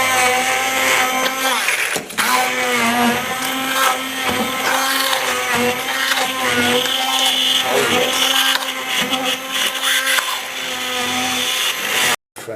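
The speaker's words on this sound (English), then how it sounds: "the zucchini has been blended" A blender whirs continuously as it purees zucchini into a cream sauce, a loud, steady motor drone with slight pitch shifts, cutting off briefly near the end before restarting.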